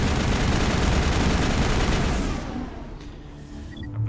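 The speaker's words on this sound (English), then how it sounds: "Not seriously firing rockets at me right now" Heavy barrage of rocket and weapon fire aimed at the player in the video game Mass Effect, a dense, loud roar of blasts and explosions that fades out toward the end, with no talking.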